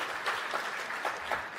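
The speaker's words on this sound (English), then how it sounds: "that's good, the old people cheering" A brief burst of audience applause and cheering from an elderly crowd at an awards gala, dense clapping in close, even waves.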